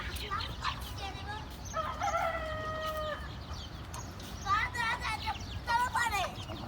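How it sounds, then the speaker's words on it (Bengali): Chickens being carried in the morning give close, repeated clucks and short squawking calls in irregular bursts, with people talking nearby over a low background rumble. "এখনকার মানে প্রতিদিনের ডিউটি রায়ানের, মুরগি সকালবেলা এখান থেকে ওইখানে নিয়ে যাওয়ার।"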